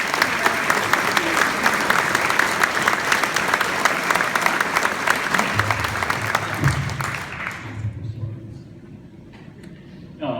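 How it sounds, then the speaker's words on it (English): A campaign kickoff audience gives campaign donors steady, full applause that fades out near the end, with low murmuring underneath. "Please give a round of applause."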